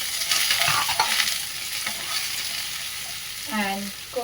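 Peas being stirred and frying in a pan, a loud continuous sizzle with scraping strokes at the start, fading to a steady hiss before a brief clatter near the end.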